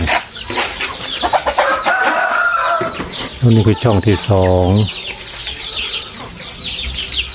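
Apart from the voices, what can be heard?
chicken clucking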